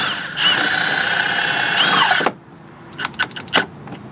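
Power drill driving self-tapping screws through a carbon front splitter lip into aluminum on a BMW M3/M4 CS, a loud whining motor run for about two seconds that stops abruptly, followed by a few short clicks and taps.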